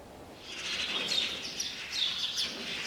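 Magpies chatter and call continuously outdoors near a meal house, their harsh rattling calls repeating in bursts over steady background noise at moderate distance.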